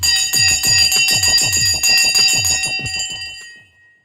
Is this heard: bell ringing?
yes